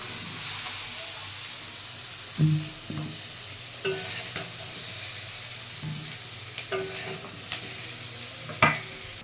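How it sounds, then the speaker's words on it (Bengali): Young jackfruit fries in a pan with a steady close sizzle, punctuated by several sharp scraping and clinking stirs from a utensil, with no talking. "এঁচোড়টা ভালো করে একটু ভেজে নেব।"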